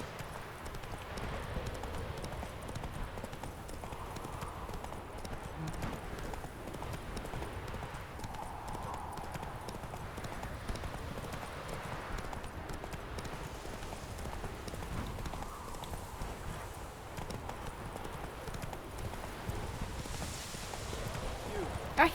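Roach the horse trots through The Witcher 3: Wild Hunt, with a steady clip-clop of hooves and faint game ambience while someone talks over it now and then.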